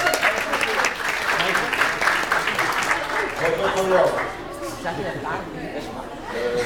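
An audience at a student branch inauguration applauds for a general secretary, a full burst of clapping with murmured chatter mixed in, tapering slightly toward the end.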